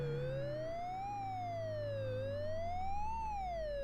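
A police car siren from a Commodore Amiga video game, a clean synthetic tone sweeping slowly up and down in a steady wail, loud and continuous throughout, no talking.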